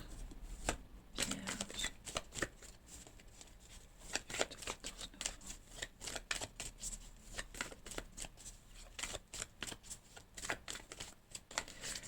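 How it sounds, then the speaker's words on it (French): Tarot cards shuffled by hand during a weekly Virgo horoscope reading, giving a long run of rapid, crisp riffling and flicking bursts, close and fairly quiet, with no talking. "Hop, que je ne mélange pas mes cartes."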